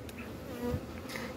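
A close, steady buzzing of swordbees in a beekeeping setting hums continuously for a brief moment, with no voices.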